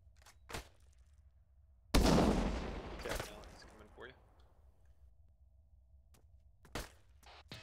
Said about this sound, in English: You guys are taking fire from a roof